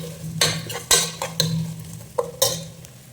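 Ground masala fries in oil for a village-style fish curry while a utensil stirs the pan. Close, scattered metallic clinks and scrapes sit over a faint sizzle.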